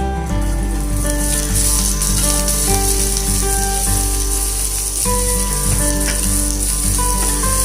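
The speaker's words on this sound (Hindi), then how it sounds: "प्याज को थोड़ा हल्का ब्राउन कलर का होने तक इसको स्टीर करते रहिए।" Chopped onions frying with cumin seeds in a hot pan, stirred continuously: loud, steady sizzling with scraping and clinking of the spoon against the pan, a persistent low hum beneath.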